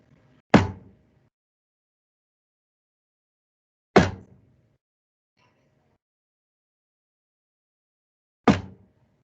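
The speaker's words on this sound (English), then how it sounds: "I'm going to knock on my table a few times." Three sharp, isolated knocks on a tabletop, each followed by several seconds of silence, close and clear with no talking.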